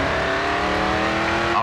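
In the racing video game GRID 2, a race car engine screams at full throttle, a loud, steady, high-pitched drone held for a brief stretch with no letup.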